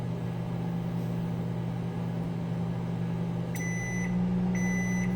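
A microwave oven hums steadily, then beeps twice in a row near the end, close by.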